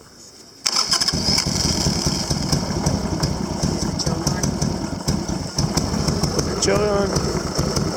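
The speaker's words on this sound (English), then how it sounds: "next step will be start the bike" A Harley-Davidson Sportster motorcycle engine cranks and catches after a short quiet moment, then settles into a loud, steady, lumpy idle that runs to the end, with people talking over it.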